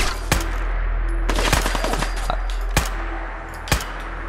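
Gunshots ring out in Fallout 4, several sharp separate reports with a short rattling burst in between, loud and close over a low background hum.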